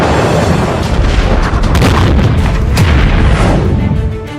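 A howitzer artillery gun fires, producing a loud, sustained boom with a rumbling roar that fills the whole clip and fades at the end.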